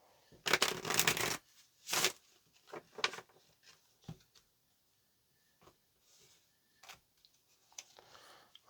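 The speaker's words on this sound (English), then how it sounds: "let's go ahead and get this last shuffle." Tarot cards being shuffled by hand, a loud close riffling burst followed by scattered softer card slaps and taps with quiet gaps between them, with no speech.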